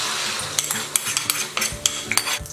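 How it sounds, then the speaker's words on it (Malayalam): Egg poured into hot oil for a quick five-minute fried rice and stirred fast, with a steady sizzle beneath repeated sharp scrapes and clinks of a utensil against the pan, close and busy. "ഓയിൽ നന്നായി ചൂടായ ശേഷം മാത്രം നമ്മൾ മുട്ട ഇതിലേക്ക് ഒഴിച്ചിട്ട് പെട്ടെന്ന് തന്നെ ഇളക്കി കൊടുക്കണം."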